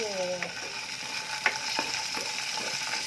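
Onion, garlic and ginger sauté in hot oil in a pan, a steady crackling sizzle with a few sharp spatters and light scraping of a utensil, close up with no talking.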